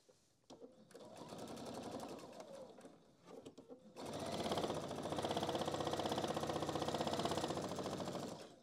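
A sewing machine stitches a handbag organizer, first in short, uneven runs and then in a long, loud, steady run. A voice speaks briefly at the start.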